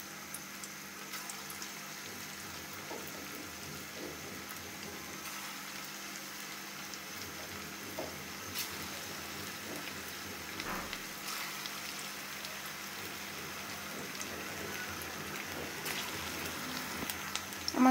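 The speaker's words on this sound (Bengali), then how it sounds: "আমরা আস্তে আস্তে এগুলো বলগুলো এখন ভেজে নিব।" Chicken and cauliflower kofta balls fry in a pan, giving a steady, fairly quiet hiss and sizzle with faint crackles that holds evenly throughout.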